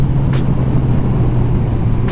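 Suzuki GS 750 motorcycle engine pulling steadily in 4th gear at about 4,000 RPM while climbing a hill, a loud, continuous low drone with wind rush and no talking.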